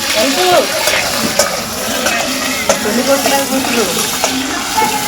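Potatoes frying in heated oil, a continuous close sizzle with occasional stirring scrapes and faint voices in the background.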